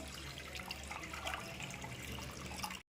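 Water is poured into lentils in a pot so they can cook for a lunch dish. A quiet, continuous trickle and splash runs for a few seconds and then stops abruptly.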